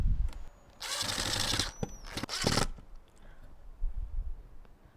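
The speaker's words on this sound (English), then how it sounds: "get your screwdriver and tighten" Power screwdriver driving screws into a wooden beehive box, two loud whirring bursts close by, each about a second long, with quieter handling knocks around them.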